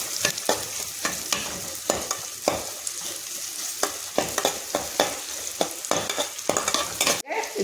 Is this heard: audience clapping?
no